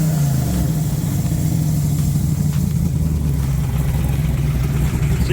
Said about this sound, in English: Give you a little exhaust note on a rev.